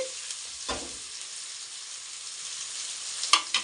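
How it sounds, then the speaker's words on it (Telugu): Small chopped onions frying in a pan until deep red for a dhaba-style chicken curry, a steady soft sizzle with a couple of brief clinks of stirring, fairly quiet and close. "అందుకే ఆనియన్స్ ఇలా చిన్నగా కట్ చేసుకొని బాగా ఎర్రగా వేసుకోండి."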